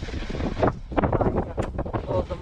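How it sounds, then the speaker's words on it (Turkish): Wind on a beach buffeting the microphone during outdoor cooking of sea bass stew, rough gusty rumbling with bursts and swells throughout, fairly loud and close, with some indistinct voice sounds mixed in. "Biraz fazla da rüzgar var."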